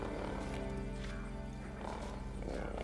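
Horse neighing and hoofbeats in the video game Ghost of Tsushima, set in feudal Japan, a steady game soundscape with a whinny and clip-clop under music and voices.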